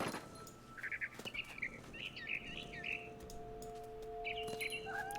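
A barn swallow in What Remains of Edith Finch chirps in quick, scratchy bursts, with a brief flutter of activity early on and a later cluster of calls over a soft ambient tone.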